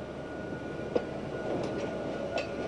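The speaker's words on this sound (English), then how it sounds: "the shuttle trains coming back and forth, bringing supplies and anything" Shuttle trains move at the shaft entrance of a collapsed coal mine in Yuncheng, Shandong, in east China, producing a steady rail rumble with a couple of faint metallic clanks over distant background noise.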